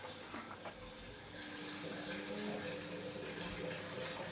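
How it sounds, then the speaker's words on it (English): Water runs continuously in the men's toilets of an abandoned theatre in Streatham, London, a faint, steady hiss that swells slightly after the first second and carries on without pause. "Can hear running water in the men's toilets."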